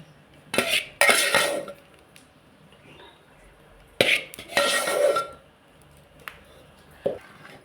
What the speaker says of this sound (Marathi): ह्या पीठ घालून नंतर चांगला ढवळून घेऊया